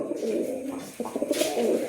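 Black Diamond pigeons cooing in a low, throaty murmur, with soft repeated coos overlapping close by and a brief brighter rustle partway through.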